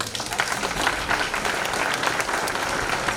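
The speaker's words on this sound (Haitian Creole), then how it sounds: "Je vous demande de l'applaudir, s'il vous plaît." Sustained audience applause at a gala evening in Queens, New York, a dense even wash of many hands clapping throughout, fairly loud and close with no voices over it.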